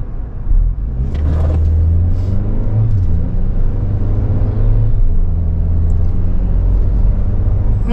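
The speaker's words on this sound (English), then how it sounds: "we're out on the road in this 24 Land Cruiser 1958 edition" A 2024 Toyota Land Cruiser 1958 Edition drives on the road, a steady low engine and road rumble heard from inside the cabin, loud and continuous with slight swells in revs.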